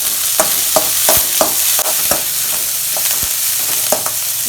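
Curry leaves sauté in hot oil in a pan for a plantain stir-fry, with a loud, constant sizzle broken by a spoon's regular scraping taps against the pan.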